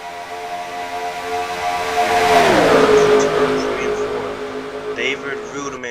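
Stock cars roar past at Talladega in NASCAR Racing 2003 as the pack runs side by side down the back straightaway, with engine drone rising and falling as they pass, heard under a commentator's voice.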